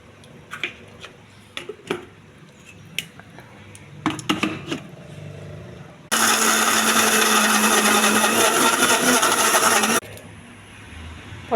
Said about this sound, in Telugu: కోసి పెట్టుకున్న కొబ్బరి ముక్కలండి మిక్సీ జార్లో వేసి మెత్తగా చేసుకోవాలి.